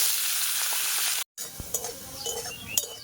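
Steady oil sizzle from carrots frying in a pan, briefly cutting out, then quieter crackling with a few stirring clinks and scrapes.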